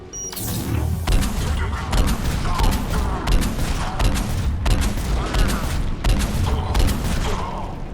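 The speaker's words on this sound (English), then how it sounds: "Commander, we're getting a lot of mortar fire." Heavy mortar and gunfire in a Mass Effect battle: dense, continuous bursts of shots and booming impacts fill the whole stretch, loud and close, with a few faint voices mixed underneath.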